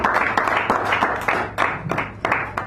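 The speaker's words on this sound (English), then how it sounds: "give Stephanie a nice round of applause" A small crowd at a poetry reading in a San Francisco café claps steadily, a scattered patter of hands at moderate volume, fairly close, without voices over it.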